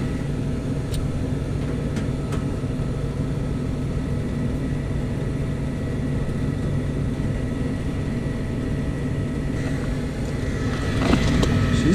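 An old Trane rooftop unit running on gas heat gives a loud, steady mechanical roar and low hum, with a few faint clicks and a brief rattle near the end.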